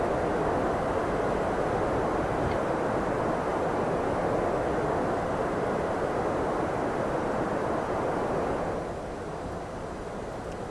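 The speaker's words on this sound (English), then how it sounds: "So we feel the wind hitting the airplane." Wind and turbulence buffet a Toliss A321 airliner on approach with the gear lowered in a flight simulator game, a loud, continuous broadband rush that eases slightly near the end.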